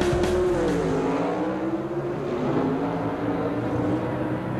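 Pro Stock drag race cars from the 1976 NHRA World Finals roar down the strip, a loud sustained engine howl that rises in pitch as they accelerate away, with no voices.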